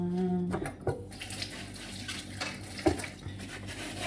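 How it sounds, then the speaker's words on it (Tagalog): Water runs from a tap into a kitchen sink while dishes and plates are washed, a steady close splashing stream with occasional knocks and clinks of crockery, no one speaking. "Busy washing at the kitchen, guys."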